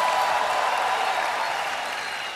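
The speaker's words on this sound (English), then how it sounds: "Give the Lord a big clap of hand." A church congregation claps hands together in a dense, loud burst of applause that fades slightly over a couple of seconds.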